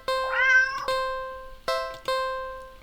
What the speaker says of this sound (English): Feed the cat. The cat must be hungry, right?